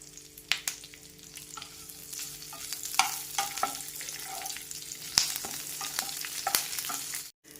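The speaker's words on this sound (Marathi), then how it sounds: "हा जो कढीपत्ता आहे यावरती छान कुरकुरीत होईपर्यंत आपल्याला भाजून घ्यायचा" Curry leaves crackle and sizzle steadily in hot oil, with sharp pops and occasional scraping of a spoon in the pan, close and moderately loud.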